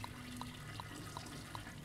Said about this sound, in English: Oh, yep, bidet spraying